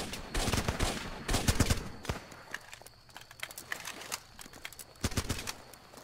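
Gunfire in the combat video game Running With Rifles: several bursts of sharp rapid shots, some near and loud, others fainter and farther off, with irregular pauses between volleys.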